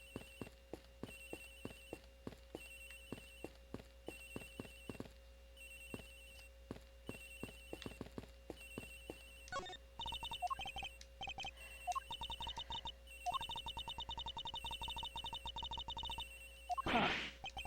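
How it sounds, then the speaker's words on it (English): In the Ace Attorney Investigations video game, a phone rings in short, evenly repeating bursts, faint and continuous, with game music and tones rising beneath the later rings. "Agent Hicks's phone. It's ringing from somewhere, sir."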